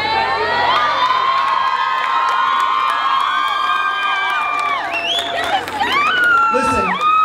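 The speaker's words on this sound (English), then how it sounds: "you can celebrate tonight, you can cheer tonight" At the Arab Texas Festival, a crowd cheers and whoops after a speech, loud and sustained, with high shouting voices and whistles rising over a dense roar that swells toward the end.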